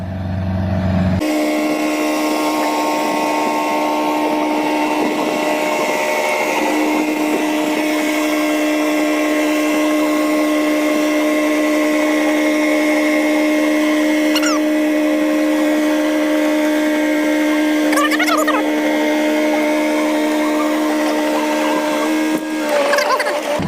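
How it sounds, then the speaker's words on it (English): A house tugger machine moving a delivered house gives a steady, loud mechanical drone with strong sustained tones and a constant engine hum, running unbroken throughout with a few brief squeals and clanks. "the house tugger is done. Climbing out of its little rivets."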